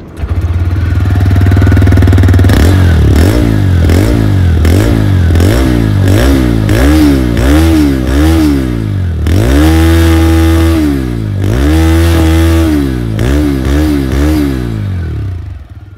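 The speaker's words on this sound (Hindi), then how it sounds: "इसका एग्जॉस्ट नोट जो है बहुत ही ज़्यादा स्पोर्टी साउंड करता है" A TVS Raider 125cc motorcycle revs up close and loud in repeated sharp bursts from its sporty exhaust, the engine climbing and falling over a steady idle, with no voices over it.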